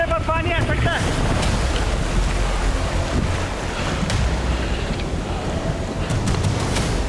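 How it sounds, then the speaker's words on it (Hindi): Roaring water right beneath a waterfall on a mountain trail in Kinnaur, a dense, steady rush that fills the whole clip with wind buffeting the microphone, close and loud throughout. "हम झरने के ठीक नीचे थे।"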